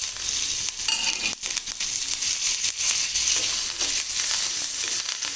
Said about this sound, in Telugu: ఇప్పుడు అల్లం, పచ్చిమిరపకాయ, కొత్తిమీర, మొత్తం అల్లం, పచ్చిమిరపకాయ, కరివేపాకు మొత్తం వేస్తున్నానండి.